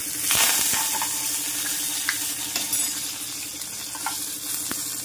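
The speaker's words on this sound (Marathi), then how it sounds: "आता कढीपत्ता घालून घेते" Curry leaves frying in hot oil in a home kitchen, giving a continuous crackling sizzle with small pops and spatters, close and fairly loud, with no talking.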